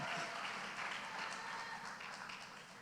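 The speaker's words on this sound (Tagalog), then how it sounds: "palakpak ta, liwat." A congregation at a Sunday cell celebration gives a round of applause, a soft, dense wash of clapping heard from a distance, steady and fading slightly toward the end, with no one talking.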